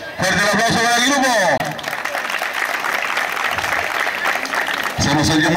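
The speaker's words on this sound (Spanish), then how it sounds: "¡Fuerte el aplauso para el grupo!" Loud, sustained applause from a crowd at a school gymnastics show, with cheering and whistles mixed in, framed by music at the start and end.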